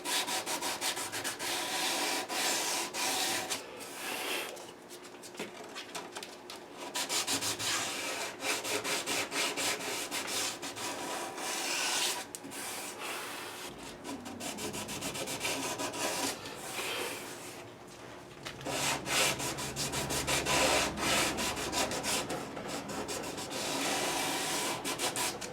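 Classical guitar frets are sanded with 320 grit sandpaper during a re-fret, producing steady, close rasping strokes that continue for a long stretch with brief pauses and no talk.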